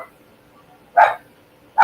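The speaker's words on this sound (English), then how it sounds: "Sorry about the dog." A dog barks twice, close and loud, two short sharp woofs a little under a second apart in an otherwise quiet room.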